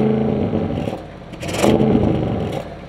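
A stock 2021 Audi RS6 Avant engine revs hard: a rough, throaty roar that swells to a peak mid-way, then holds at a fairly steady, loud level with no talking.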